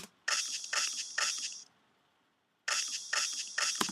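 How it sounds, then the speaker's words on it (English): Noisy electronic snare drum sample in a programmed beat, three bright, hissy hits at an even pace, a short pause, then three more, clear and without any voice. "So you see, the snare drum got a noise again in it."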